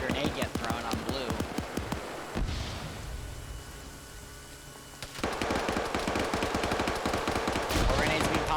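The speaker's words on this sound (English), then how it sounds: "Steven firing more rounds in here" Rapid bursts of automatic gunfire in an online team shooter match, loud and dense at first, dropping to a quieter stretch before heavy firing resumes, with a voice talking over it.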